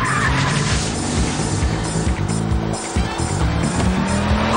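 During a chase, a car accelerates hard nearby with tyres squealing and skidding, and its engine revs in rough bursts under a busy, continuous roar.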